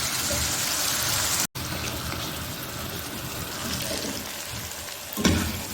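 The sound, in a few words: mutton karahi frying in oil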